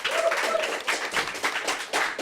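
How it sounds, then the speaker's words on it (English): A live audience applauds a speaker arriving at an evening talk on smart meters: dense, steady clapping close to the microphone for a couple of seconds, with a faint voice briefly heard behind it. "So can everybody give Mike a massive round of applause?"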